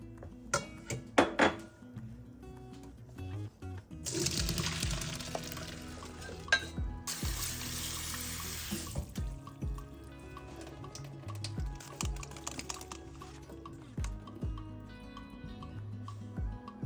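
Running tap water rinses cooked pasta in a kitchen, a bright rushing splash that starts after a few clicks and clatters, pours steadily for about five seconds with a short break, then gives way to scattered drips and handling noises.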